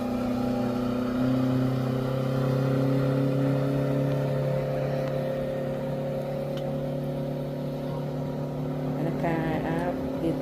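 A speedboat at Kakkayam runs with a steady, loud motor drone holding a constant pitch throughout, with rushing water and wind noise around it.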